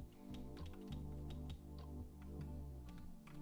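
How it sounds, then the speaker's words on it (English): Computer keyboard keys tapped in rapid bursts while playing the game Swordburst 2, a dense run of quiet clicks sitting over a steady low hum. "I don't know if you can hear my keyboard. I'm trying to spam these keys."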